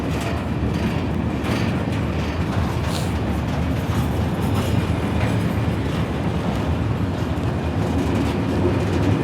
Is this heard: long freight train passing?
yes